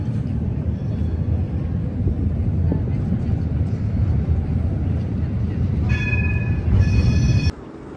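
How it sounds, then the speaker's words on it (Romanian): A tram moves slowly along a street in Porto, giving a steady low rumble with a brief squeal of metal near the end, while people talk over it. "tramvaiele merg foarte încet, tocmai ca să permită turiștilor să se bucure de acest loc"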